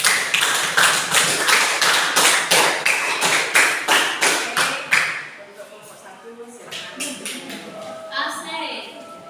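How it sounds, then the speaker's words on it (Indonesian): A group at a teachers' coaching session applauds a presenting team with steady, rhythmic clapping in near unison for about five seconds, then it fades into scattered softer taps and quieter room sound. "Jadi boleh aplaus dulu untuk kelompok 1."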